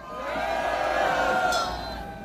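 A crowd at a Korean patriotic political rally raises a loud, sustained cheer and shouts to welcome a law professor to the stage, swelling and then holding steady for a couple of seconds.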